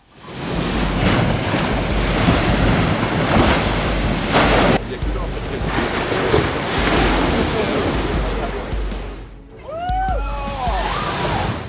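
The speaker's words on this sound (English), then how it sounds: "the high tide created a spectacular scene as waves crashed against the shore, sending water splashing into the air." Surf at high tide crashes steadily against the shore at Saint-Malo, a loud continuous roar of breaking waves and spray with wind buffeting the microphone, briefly dipping near the end before surging again.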